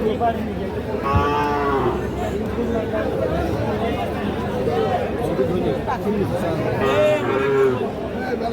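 Cattle and young calves low repeatedly at the Ambari livestock market in Bangladesh, several moos rising over a constant crowd babble, while someone talks close by throughout.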